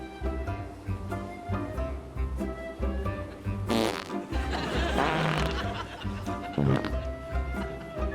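A loud, drawn-out comedic fart sounds over continuous background music, with a burst of laughter-like noise around it.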